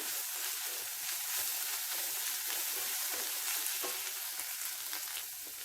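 Ginger garlic paste fries in a hot pan for pav bhaji masala, a dense continuous sizzle with light stirring, close and steady throughout, no voices.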